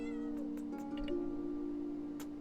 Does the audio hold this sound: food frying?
no